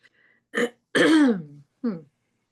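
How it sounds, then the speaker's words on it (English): A few throat-clearing coughs, close and fairly loud, in short separate bursts with a pause between. "What is in the air that's making me cough in that?"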